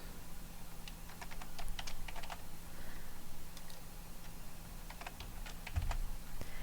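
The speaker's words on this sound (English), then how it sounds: "Here you'll type in the start and stop times." Soft keystrokes clatter on a computer keyboard in short irregular runs while start and stop times are entered, quiet and steady over a low background hum.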